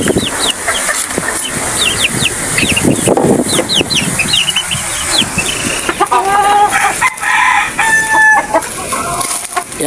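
A white rooster crows loudly and close by, mixed with clucking and peeping from two-month-old chicks around it, a busy farmyard chorus with no talking.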